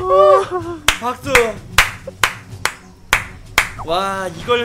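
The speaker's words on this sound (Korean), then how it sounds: "박수" One person claps by hand during an ARK: Survival Evolved game stream, making about eight sharp, irregularly spaced claps mixed in with excited talking.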